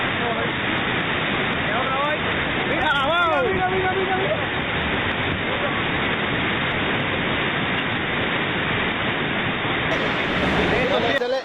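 Raging flood water roars loudly and steadily throughout as an aging bridge in Cuba gives way, with a brief creaking groan early on and a splash-like burst near the end, and some indistinct voices carried under the rushing water.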